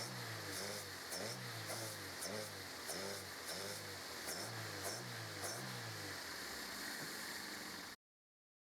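Car engine noise rising and falling in repeated revs while cleaner is sprayed into the throttle body, under a steady hiss, fairly close, then cutting off abruptly.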